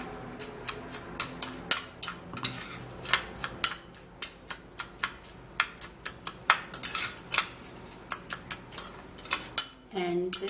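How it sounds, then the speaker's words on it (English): A spoon scrapes and clinks repeatedly against a bowl while stirring a sugar lip scrub mixture, a brisk irregular series of sharp taps and scrapes, fairly quiet. "just squeeze a little quantity of this into the sugar and then stir it all up."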